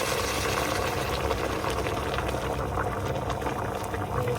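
Hot water pouring steadily onto chicken in a cooking pot, a continuous loud splashing rush that bubbles and hisses throughout, with no one talking.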